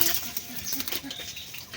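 Quick irregular flutters and soft splashes of a myna bathing in shallow rainwater, faint and close, with no talking.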